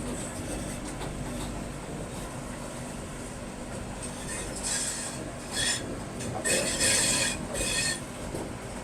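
Inside the Vande Bharat Express between Patna and Lucknow, a continuous rumble from the train carries through the whole passage. Metallic squeals from the wheels rise over the rumble several times, and there is no talking.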